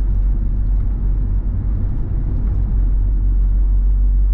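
Inside a 1992 Renault 21 Manager turbo diesel while driving, a steady loud low engine drone and road rumble holds even throughout, close and unbroken, with no talking.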